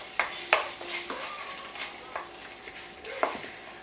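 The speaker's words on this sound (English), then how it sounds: "about 1 teaspoon of sugar. Stir it around some more." Spoon stirring sugar into a hot tamale ball meat mixture in a bowl, soft scraping and squishing strokes with a few sharper clinks, quiet and close.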